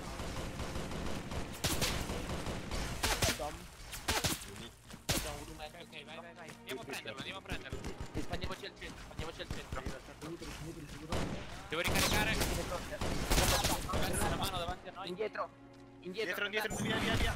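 Sustained gunfire in a Halo mod for Arma 3, with rapid volleys and cracking shots rattling almost continuously under several players talking over one another.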